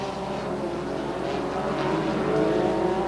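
NASCAR Winston late model race cars lapping Raven Raceway in 1987: a loud, sustained engine drone with a steady buzzing tone that rises slightly in pitch and volume toward the end, with no talk.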